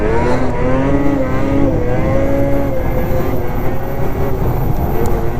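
A 2027 XRS 600RR motorcycle held at partial throttle on a track straightaway, a loud, steady, buzzing engine drone with a slowly shifting pitch and heavy wind noise, close up.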